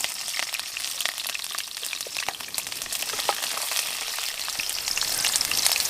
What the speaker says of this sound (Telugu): ఇప్పుడైతే ఎండ్రకాయల కూరకు తాలింపు పెట్టుకుందాం. నూనె పోసి ముందైతే కొన్ని మెంతులు వేసుకోవాలి.